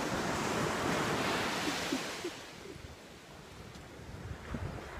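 Stormy ocean waves crash and roar at the beach under heavy gusting wind, a loud continuous wash that swells and eases, with no voices.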